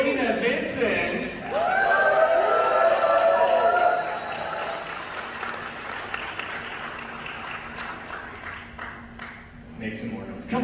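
A convention audience at a Power Morphicon 2022 panel claps and cheers loudly, with whoops rising early and then thinning out, while people talk over the crowd.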